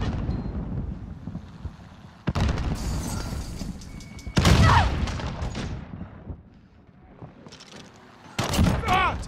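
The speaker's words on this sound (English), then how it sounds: "Grenade out." A grenade explosion and gunfire in Call of Duty Modern Warfare: sharp loud booms and bursts of shots strike repeatedly over rumbling battlefield noise, with a short quiet lull before a final blast.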